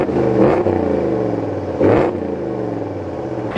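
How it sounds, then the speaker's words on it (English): A 2026 Ram 1500 Big Horn's Hemi V8 exhaust rumbles close by, with two sharp revs of the throttle rising above a deep, burbling idle. "the Hemis come with the more aggressive exhaust"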